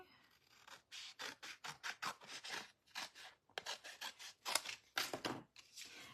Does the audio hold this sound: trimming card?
yes